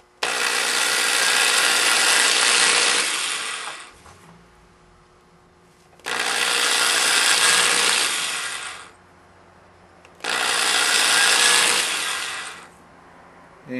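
Three long bursts of high-pitched drilling into a plastic bottle, each a few seconds, separated by short pauses, close and loud with no talking.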